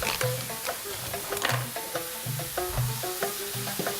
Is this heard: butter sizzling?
yes